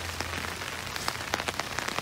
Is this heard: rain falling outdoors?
yes